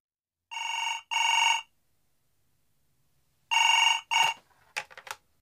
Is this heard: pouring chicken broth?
no